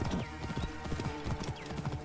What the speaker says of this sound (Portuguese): O cavalo corre mesmo, viado.